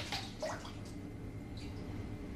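Cold water runs faintly from a restroom tap while someone splashes it over their face and arms, a soft steady wash over low background hum.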